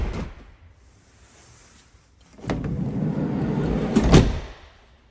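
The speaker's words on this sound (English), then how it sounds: "Let's open this passenger door." A 2021 Volkswagen Transporter T6.1 Highline Kombi passenger door opening: a click of the handle and latch, then a sustained rumbling swing ending in a firmer clunk, close by with no talking.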